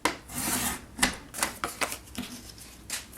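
A paper trimmer cuts cardstock for a handmade birthday card kit, with close rasping slides and several short, sharp snips and taps in quick succession.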